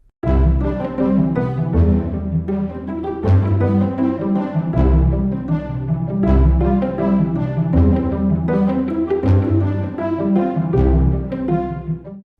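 Full orchestral music plays steadily, with deep sustained bass notes under layered strings and brass carrying a simple repeating melody, no voices.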